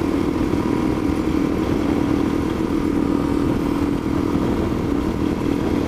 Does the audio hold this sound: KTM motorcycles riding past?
yes